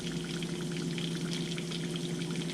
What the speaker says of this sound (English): That is bubbling good.